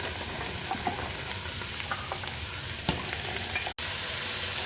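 Vegetables fry in oil in a pan for a green vegetable biryani, giving a constant close, loud sizzle with faint stirring scrapes and no talking.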